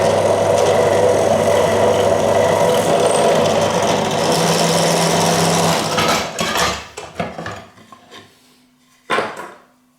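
A drill fitted with a 10mm bit bores holes in a workshop during a pipe organ restoration: a loud, steady motor whine for several seconds, then spins down, followed by a short burst near the end.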